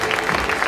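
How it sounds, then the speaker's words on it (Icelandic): A crowd claps for a stallion and its rider at an Icelandic horse show, a short burst of dense, continuous applause at moderate distance with no speech over it. "Við skulum gefa Þórunni og honum Asa gott klapp."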